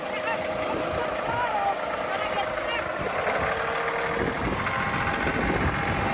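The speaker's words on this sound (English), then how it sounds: "Stick a forklift in that pallet of stone." A tractor engine idles steadily while a forklift attachment lifts a pallet of stone, a constant mid-level drone with a faint whine running underneath.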